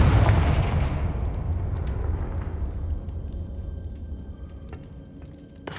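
A Confringo blasting spell in Hogwarts Legacy goes off as a single loud, close explosion, a deep booming blast that decays into a long rumbling, crackling tail.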